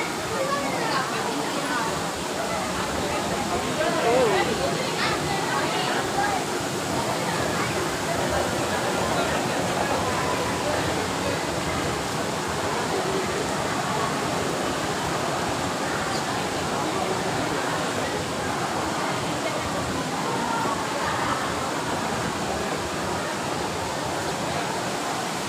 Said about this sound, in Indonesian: Kelihatan air terjun.